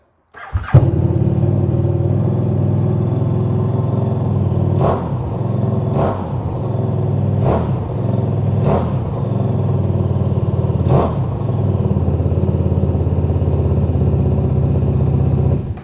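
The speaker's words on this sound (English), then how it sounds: "let's start this thing up because it does sound rather nice" A KTM RC8 1150cc sport motorcycle cranks and fires into a loud, close idle, then is blipped in five sharp throttle revs spaced a second or two apart before settling back to a steady rumble.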